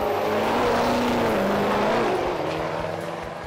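Chevy Silverado short-bed Duramax diesel sport truck launching down a drag strip, a loud sustained engine roar with a rising pitch that fades slightly as it pulls away, no talking.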